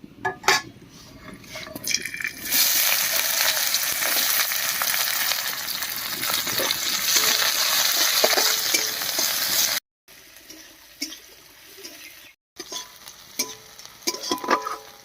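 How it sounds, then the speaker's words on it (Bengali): Chopped onion frying in oil with dried red chillies, cinnamon, cardamom and cloves for a spiced squash curry, a steady loud sizzle with stirring that cuts out briefly, then returns quieter with scattered stirring scrapes. "পেঁয়াজটা ভাজা ভাজা হয়ে গেছে"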